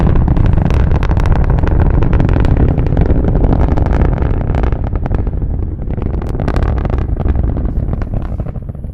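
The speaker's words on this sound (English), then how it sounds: "the Merlin engines still be throttling down as the vehicle approaches max Q" A loud, continuous roar of SpaceX Falcon 9 Merlin rocket engines at night launch, throttling down near max Q, dense and rumbling with crackling texture, sustained throughout and slightly easing toward the end.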